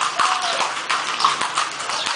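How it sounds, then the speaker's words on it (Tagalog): Horse hooves clip-clopping on pavement as a horse pulls a kalesa carriage, a steady brisk rhythm of sharp clops over loud road and wind noise while riding along. "nakikita po natin ang pag-ride ng kabayo"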